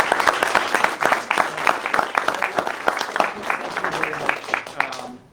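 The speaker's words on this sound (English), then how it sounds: "We give a round of applause to our students and interns." An audience at an education event applauds students and interns, a loud, close burst of clapping that swells and then tapers off at the end.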